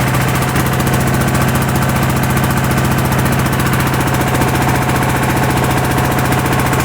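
An old, previously abandoned Onan RV generator engine runs loud and close under load with a constant rough mechanical drone and a slight surge in its rhythm, with no other sounds over it.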